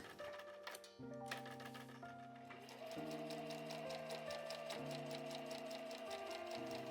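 A sewing machine runs steadily while sewing a small, thin fabric pouch, a faint, even rapid ticking heard close but quietly beneath soft sustained musical tones.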